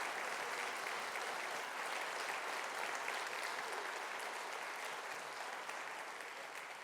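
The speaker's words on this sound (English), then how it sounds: "can we give these people an amazing round of applause?" Sustained applause from a conference audience in a hall, steady dense clapping at an even loudness throughout, with no voices standing out above it.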